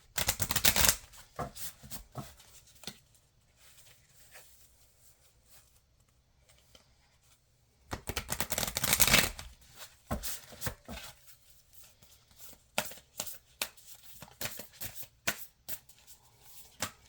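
Tarot cards are shuffled in two loud riffling bursts near the start and in the middle, with quieter taps and flicks of the deck between them and no voice.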